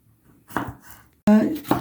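A knife chops vegetables on a board in a home kitchen during liver and heart cooking, a few sharp close cuts in two short bursts with brief gaps between.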